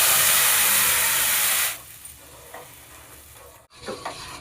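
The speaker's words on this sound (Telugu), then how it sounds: "మిక్సీ పట్టుకున్న పేస్ట్ వేసుకోవాలి" A ground spice paste drops into hot oil for an egg masala curry and hisses loudly. The sizzle is close and intense, then abruptly drops to a softer, steady frying crackle with a few stirring sounds.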